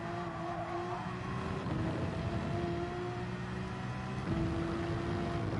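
Porsche race car in Gran Turismo 7 at Dragon Trail Gardens, a steady sustained engine drone with held tonal pitch that steps up at shifts, loud and continuous with no talk.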